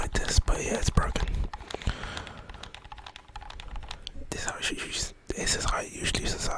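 Broken game controller analog stick rotated repeatedly, giving close, rough rumbling and scratchy clicking textures in uneven bursts, with a soft whispering voice over parts of it.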